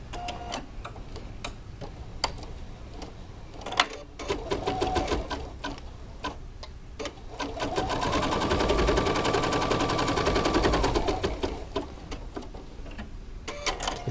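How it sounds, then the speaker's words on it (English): Bernina 830LE sewing machine stitching a placement line for gimp thread on a buttonhole, rapid mechanical clatter and ticking in bursts, swelling into a sustained whirring run midway before slowing back to intermittent stitching, close and alone. "I asked it to stitch like a placement line for the gimp thread. So it's going to stitch that."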